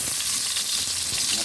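Garlic sizzles loudly and continuously in hot oil in a pan for ginataang tilapia, a dense, unbroken frying hiss close by.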